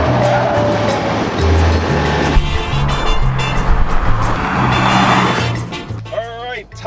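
A car, either a Volkswagen Golf GTI or a Ford Fiesta ST, laps a racetrack with its engine droning steadily and shifting pitch through gear changes, loud and close, with tire noise toward the end.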